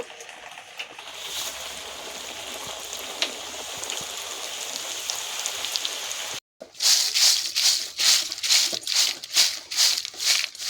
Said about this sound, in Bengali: ওরকম ভাবেই সব ভেজে নেব।